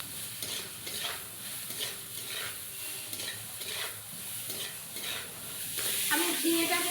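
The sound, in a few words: frying ridge gourd with salt and turmeric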